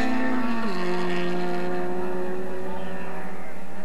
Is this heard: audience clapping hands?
no